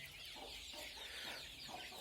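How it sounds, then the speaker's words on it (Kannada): Young country chicks of the nati koli breed, about twenty days old, peeping and clucking softly in a shed, with several faint overlapping calls. "ಇವತ್ತು ನನ್ನ ಸೆಡ್ಗೆ ಕೋಳಿಗಳನ್ನ ತಂದಿದ್ದೀನಿ"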